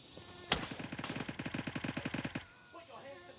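A rapid magazine-dumping string of roughly twenty evenly spaced gunshots rattles out in the tactical shooter Gray Zone Warfare, fairly faint and distant, ending abruptly after about two seconds.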